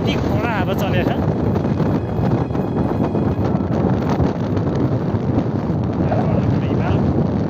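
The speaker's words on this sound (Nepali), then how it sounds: "यति कडा हावा चलेको छ।" Strong wind gusting across an exposed high mountain trail near Ice Lake above Manang village in the Himalaya, a loud, steady roar buffeting the microphone throughout.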